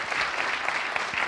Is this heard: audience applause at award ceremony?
yes